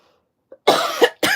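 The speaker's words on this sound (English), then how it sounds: "Sorry for the cough, guys." A person coughs twice close to the microphone, a sharp loud burst followed by a second harsher cough, after a brief quiet intake of breath.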